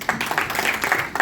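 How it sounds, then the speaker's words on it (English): An audience applauds in a brief burst of dense, rapid clapping at moderate loudness, with no voices over it. "that really calls for a round of an applause"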